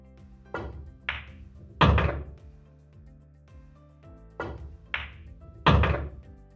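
A pool cue strikes the cue ball and billiard balls collide on the table during a practice rack, with sharp close knocks spaced out in pairs and quiet gaps between them.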